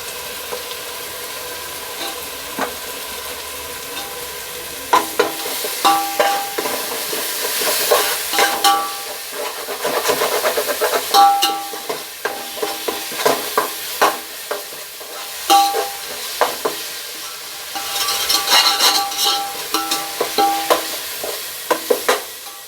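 Ground cinnamon, clove and cardamom sauté in a pot for Dindigul-style mutton biryani, a continuous close sizzle broken by frequent scraping stirs that grow busier toward the end.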